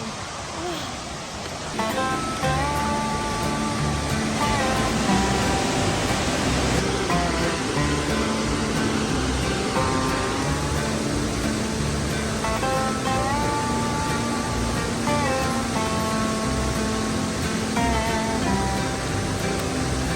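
A waterfall along the Pacific Crest Trail roars as a constant broadband rush of falling water, loud and close, swelling after the first two seconds and holding steady, with faint tonal sounds drifting over it.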